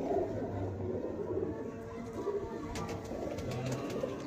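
Pigeons, including prized golden and Lalpuri birds, coo softly in a loft, a low steady murmuring with a few faint clicks and flutters throughout.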